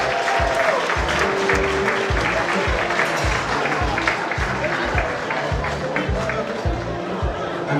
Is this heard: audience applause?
yes